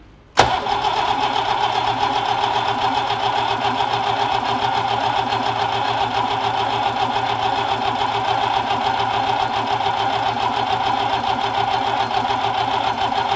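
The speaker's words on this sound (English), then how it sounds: "So if you crank the engine over," A Ferrari engine cranks over and runs steadily after a sharp start, a continuous loud mechanical drone with a faint knocking undertone, heard alone without talk.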